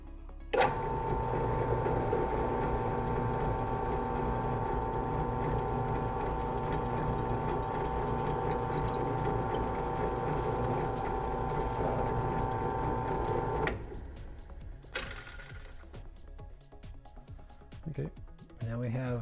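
A drill bores a hole straight down the middle of a Boba Fett left vambrace prop piece, giving a steady, close motor whir for about thirteen seconds before cutting off into quieter handling noises.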